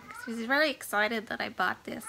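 A pet cat meows in a few drawn-out, rising calls mixed in with a woman's close, chatty speech indoors.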